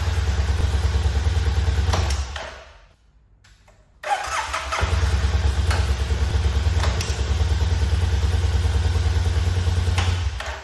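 A Yamaha Super Tenere 750 motorcycle engine runs with a loud, steady low throb, cuts out briefly into near silence, then fires back up and settles into an even, close idle.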